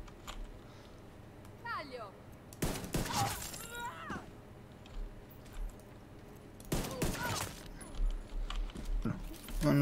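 Gunfire in The Division 2, with bursts of shots taking enemies down by headshots, crackling in rapid volleys amid game effects, at moderate loudness beneath an ongoing background mix.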